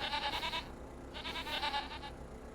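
Goats on a farm in the video game Farming Simulator 25 bleat in two loud, wavering bursts with a short gap between them, heard over a low, steady background rumble.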